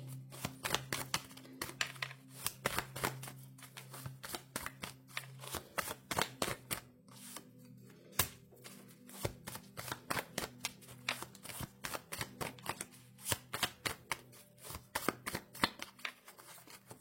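Tarot cards being shuffled by hand, a dense run of crisp riffling flicks and taps in quick irregular bursts, close and alone, with a faint low hum underneath.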